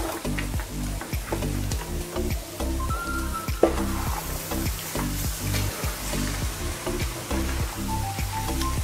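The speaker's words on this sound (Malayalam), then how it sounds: "എള്ള് ചേർത്തിട്ടൊന്ന് ഇളക്കി കൊടുക്കുക ചെറുതായിട്ട്." Sesame seeds sizzle and crackle in hot ghee while being gently stirred for sweetened flattened rice, a steady close frying hiss under a rhythmic background music beat.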